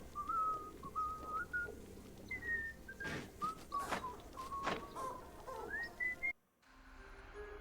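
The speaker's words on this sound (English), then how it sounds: "Enough whistling." A person whistles a wandering melody of short and sliding notes, fairly faint over soft game background sounds, then stops abruptly near the end.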